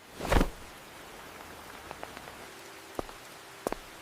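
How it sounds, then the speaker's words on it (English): Steady rain patters on a surface outdoors beside a cafe, a broad even hiss with a louder whoosh near the start and a few sharp drips or taps scattered later. "Once again, I open my umbrella to protect myself from the rain."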